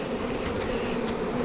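Honeybees drone steadily at an open hive while splits are being made, a close, even buzz with no break and no voices.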